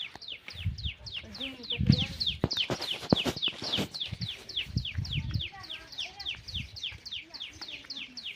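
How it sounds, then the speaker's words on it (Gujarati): Many small birds chirp in rapid, repeated bursts throughout while eating grain in a village, with low rustling and pecking sounds underneath. "પંખીડા આવ્યા દાણા ખાવા"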